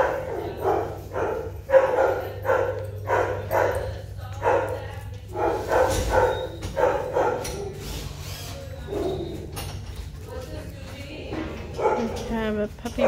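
Several dogs bark and yip in rapid repeated bursts close by, some whimpering between barks, over a steady low hum.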